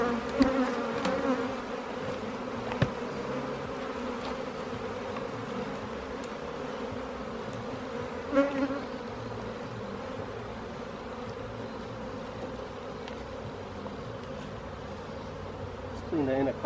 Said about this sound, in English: Wow, look at that. The swarm of the bees.